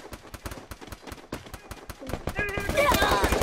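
Rapid, evenly spaced gunshots ring out in the mobile battle game Free Fire. The bursts are quick and fairly faint, and excited voices come in over them toward the end.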